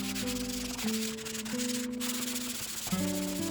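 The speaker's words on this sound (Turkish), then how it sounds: "tortulu ve silikon olan yerleri ahşap zımparası zımparasıyla zımparalıyoruz" Steady hand sanding of a wooden table with wood sandpaper, a continuous abrasive rasp with a humming tone that shifts pitch a few times, heard close up with no talking.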